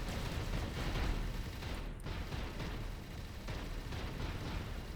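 Quad cannon turret firing in the space game Avorion, a dense continuous rumble of rapid booming shots with no clear gaps, loud and constant throughout.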